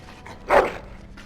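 A dog barks once in Dragon Age: Origins, a single short, fairly loud yelp standing out above quiet background game ambience.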